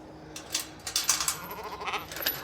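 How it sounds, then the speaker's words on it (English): Goats on a regenerative farm bleat several times in quick succession, fairly close and moderately loud, over a steady outdoor background with no speech. "goats are fun, and they're funny, but I'm letting them out here"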